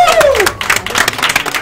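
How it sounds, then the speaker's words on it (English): Short burst of audience applause and cheering at a Super Smash Bros. gaming tournament, a small crowd clapping loudly and close, with a voice whooping at the start. "Can we get a round of applause for Atata for kicking ass"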